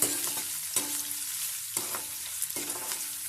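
Chopped onions and green chillies sauté in a pan for rava kichadi, giving a steady close sizzle broken by stirring scrapes about once a second, with no voices.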